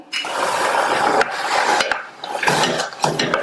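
A spoon scrapes and stirs mushroom curry with chopped tomato around in a pan, with steady rasping and rubbing sounds and a few brief breaks in the motion.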